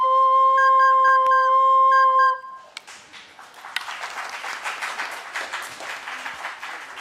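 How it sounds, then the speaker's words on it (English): Audience applause in a library following a live recorder performance, starting as a sustained tone breaks off and carrying on as a steady, fairly loud ripple of clapping for several seconds. "Applause here at the library for Alex"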